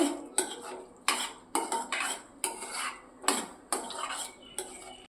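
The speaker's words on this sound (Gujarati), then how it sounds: "હવે આ બધું મિક્સ કરી દઈશું આપણે" A spoon scrapes and clinks against a metal pan in a steady rhythm of about six strokes, close and clear, with no talking, while stirring a Chinese pulao mixture before rice is added.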